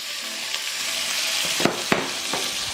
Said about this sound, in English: let's just go ahead and add our ground beef